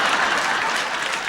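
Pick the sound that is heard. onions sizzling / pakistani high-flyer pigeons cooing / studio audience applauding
studio audience applauding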